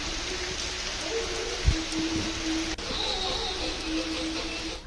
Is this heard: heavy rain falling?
yes